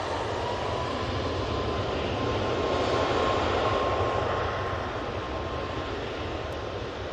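A Ryanair Boeing 737 MAX 8 at Manchester Airport gives off a steady, moderately loud jet engine roar with a faint high whine, continuous and without voices.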